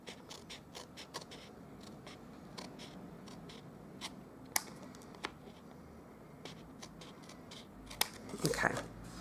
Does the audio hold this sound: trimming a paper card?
yes